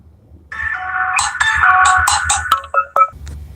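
Phone ringtone for an incoming call, a loud electronic melody of bright tonal notes that plays for about two seconds and ends in a few short, separated beeps, with no talking.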